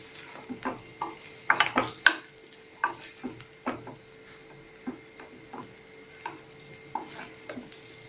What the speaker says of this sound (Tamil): இப்போ இஞ்சி பூண்டு பேஸ்ட்டு பச்சை வாசனை போனதுக்கப்புறமா வேக வச்சு கட் பண்ண உருளைக்கிழங்கு சேர்க்குறேன். இதை இதில் புரட்டி விட்டுடலாம்.